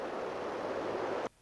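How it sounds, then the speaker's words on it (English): Water rushing beneath the mill bridge in Lucerne, a dense, steady broadband roar close by that cuts off abruptly near the end. "you can hear the water just rushing underneath the bridge"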